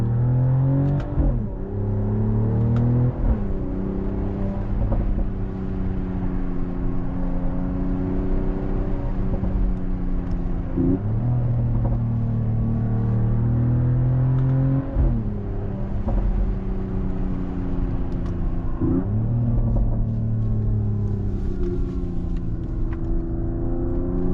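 A 2026 Mercedes-AMG GLE 53 Hybrid engine revs up and settles repeatedly in rising, falling pitch sweeps, with sharp exhaust pops cracking between the pulls, heard close and loud from inside the car.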